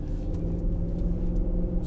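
A Range Rover engine gives a low, steady rumble from beneath, heard from inside the cabin, continuous and fairly loud with no talking.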